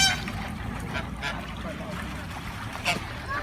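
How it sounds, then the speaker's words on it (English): Geese honking with swans and ducks gathered together on a busy riverside in Abingdon or Oxford at lunchtime, a mix of calls and chatter rising and falling under steady outdoor background noise. "You've got swans, geese and ducks all together."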